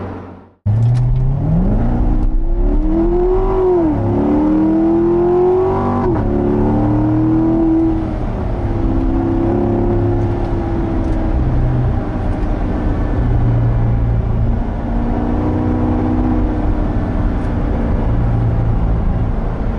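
A 2016 Corvette Stingray in automatic mode accelerates hard from inside the car. The engine roars loudly as its pitch climbs, drops sharply at each upshift, climbs again, then settles into a sustained high-speed drone.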